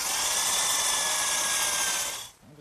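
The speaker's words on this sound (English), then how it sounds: "I'm going to drill a quarter-inch hole about a half-inch deep" A power drill bores a quarter-inch hole about half an inch deep into a wooden chair-table blank, a loud steady high-pitched whine lasting two seconds before cutting off abruptly.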